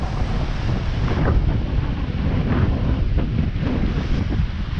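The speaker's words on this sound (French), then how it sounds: "Ça souffle bien, on a très bien marché." Strong wind roars steadily across the microphone while sailing off Martinique near the Diamant, with waves and hull rush mixed in, loud and continuous with gust swells throughout.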